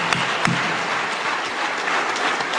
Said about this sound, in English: Shall we together give her that round of applause?